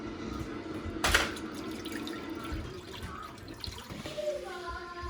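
A gallon of whole milk poured into a cooking pot, a splashing liquid gush that peaks early and then settles into softer trickling, with faint background noise.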